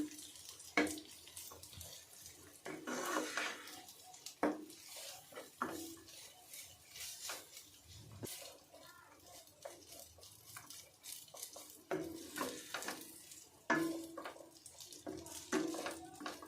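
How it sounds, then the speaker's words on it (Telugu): Pasta being stirred and mixed in a pan in a home kitchen, with soft clinks and scraping of a utensil against cookware and some watery sloshing, fairly quiet and irregular with no talk. "ఇలా ఈవెన్గా మొత్తం అంతా కూడా పాస్తా బాగా కలిసేటట్టు అయితే బాగా మిక్స్ చేసుకోవాలి"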